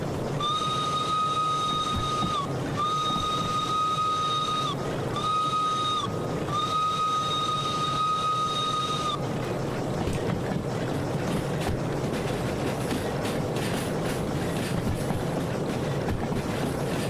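A steam locomotive in the train simulator game Derail Valley sounds several long whistle blasts, then settles into a dense, continuous rumble and hiss as it starts to roll.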